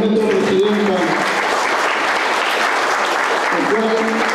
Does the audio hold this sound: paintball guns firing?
no